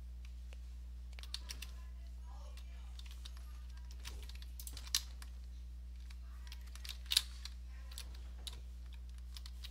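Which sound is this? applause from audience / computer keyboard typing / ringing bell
computer keyboard typing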